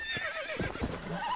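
A horse in Red Dead Redemption gives a clear, loud whinny with hoof clip-clop beneath it, close up and without talk.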